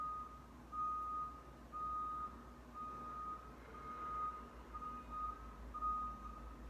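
Repeated electronic reversing beeps sound at a steady rhythm over a low truck engine rumble, moderately distant, with no talking.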